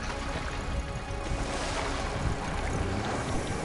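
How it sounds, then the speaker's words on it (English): Ocean waves and wind wash around a boat in GTA Online, a dense continuous roar of surf and rushing air that holds steady at moderate loudness, with no voices. "I'm stuck under the boat."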